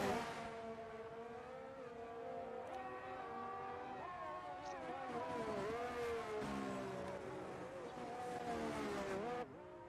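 Several F1 cars in F1 22 at the Australian Grand Prix whine at high revs, their engine tones overlapping and shifting in pitch as they pass, with voices talking over them.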